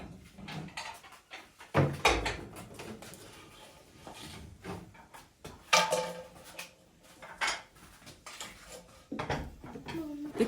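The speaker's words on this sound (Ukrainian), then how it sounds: "скласти сюди всю посуду, щоб вона мені не заважала, коли я буду прибирати" Old antique dishes and plates are stacked in a kitchen, producing scattered clinks, knocks and scraping clatters at an irregular pace, close by, with some talk at low level between them.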